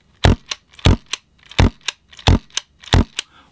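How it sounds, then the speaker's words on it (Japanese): A Maruzen M93R airsoft gun fitted with a silencer fires close up: five muffled pops in an even rhythm, each followed by a softer mechanical click. "これがねサイレンサーの音です。"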